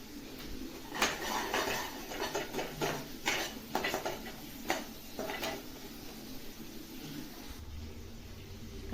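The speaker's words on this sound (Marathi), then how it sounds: "मसाला परततोय" A masala paste for a whole-masoor black-masala curry is sautéed in a pan, with a spatula scraping and knocking against the metal in a busy cluster of strokes that thins out into a quieter sizzle-like hiss near the end.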